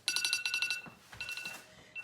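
An alarm goes off indoors, set for a pet's feeding time, playing a bright repeating electronic beeping pattern with rapid pulses in bursts, fairly faint and alone.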